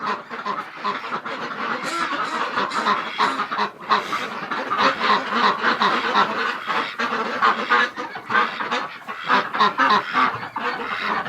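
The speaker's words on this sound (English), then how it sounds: "That's a shed full of ducks" A dense flock of ducks in a shed quacks loudly and constantly nearby, calls overlapping into a busy, raucous chatter.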